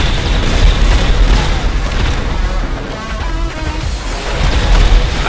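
Explosions and blasts in GTA 5 zombie survival gameplay, a dense, loud barrage of booms and crashing bursts running throughout without let-up, with no voices over it.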